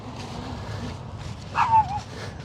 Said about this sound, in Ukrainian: собачиня причепилась гавки